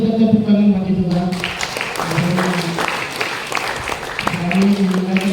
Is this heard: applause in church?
yes